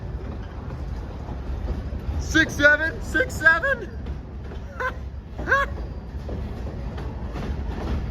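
A long Long Island Rail Road train rumbles past on track 3 at Hicksville station, a steady low roar running under nearby voices that talk and exclaim in bursts.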